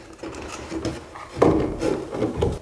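A Wago 221 junction box being positioned under a floorboard against a wooden joist, giving close rubbing, scraping and knocking of plastic on wood in irregular bursts, with no talking.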